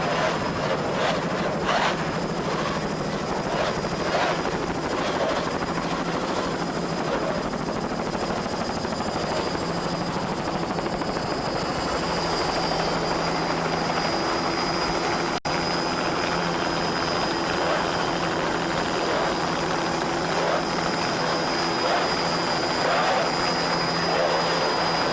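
A helicopter hovers over a powerboat race off Sunny Isles near Miami Beach, Florida, its steady rotor and turbine roar loud and continuous throughout, with a high engine whine and no voices.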